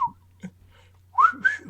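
A person whistles a short tune up close after a few faint breathy attempts, with clear, pure, wavering notes in a rising and falling pattern against a quiet low hum.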